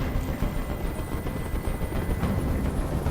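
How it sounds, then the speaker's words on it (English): Steady, broadband rotor rumble from a helicopter hovering overhead in the video game Detroit: Become Human, a continuous dense whir with no pauses or talk. "Tell that helicopter to get out of here."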